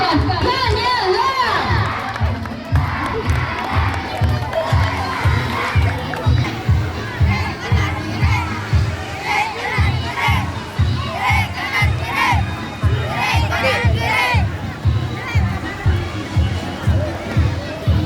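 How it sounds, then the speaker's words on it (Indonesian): A school sports meet crowd claps and cheers for a marching contingent, with loud rhythmic clapping in a steady beat and shouting children's voices mixed through it. "Berikan tepukan kepada pasukan kontingen pasukan Kanyala"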